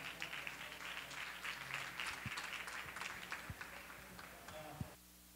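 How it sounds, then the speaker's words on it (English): Audience applause for a clinical nutritionist and Paleo Fitness author taking the stage, a steady wash of many hands clapping at moderate distance that fades out near the end. "Let's give him a big round of applause."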